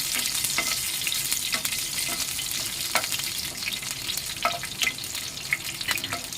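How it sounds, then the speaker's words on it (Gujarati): Red chillies fry in hot oil for a semolina dhokla tempering while a spoon stirs them, so a constant close sizzle is broken by repeated light metallic scrapes and clicks. "આપણે બધું ચમચીથી મિક્સ કરી દઈશું."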